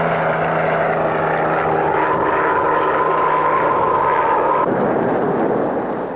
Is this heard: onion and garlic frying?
no